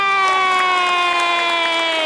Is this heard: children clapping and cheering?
yes